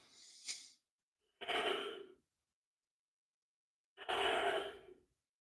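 Deep breaths during a White Crane qigong exercise: three separate, breathy exhalations spaced a second or two apart, close to the microphone in a quiet room, the last two fuller and longer.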